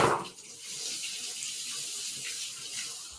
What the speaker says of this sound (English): running them under some water before cracking them